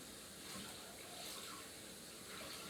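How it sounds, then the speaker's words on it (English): Tap water running steadily into a sink while something is rinsed off, a continuous faint hiss and splash with no pauses. "I'm just gonna rinse this one more time and try and get a little bit of the foundation and everything off it."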